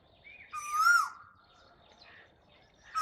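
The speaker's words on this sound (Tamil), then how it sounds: "இந்த பறவையின் பெயர் தான் குயில்." An Asian koel gives a couple of clear whistled calls, fairly faint and distant, with a quiet pause between phrases.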